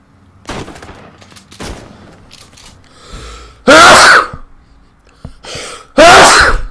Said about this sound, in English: sneezing like crazy right now